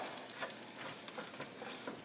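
Onions fry in oil with salt in a pan, a faint, steady sizzle with soft crackles and occasional stirring, no voices.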